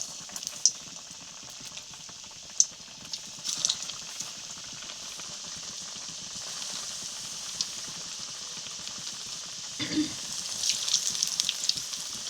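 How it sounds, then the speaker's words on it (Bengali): Vegetable chops deep-fry in oil kept on medium heat, giving a faint, steady bubbling sizzle with a few small clicks and a brief clatter near the end. "এখানে চপগুলি ভেজিটেবল চপগুলি রেখেছিলাম সেগুলি এখানে ভেজে নেব তেলের মধ্যে"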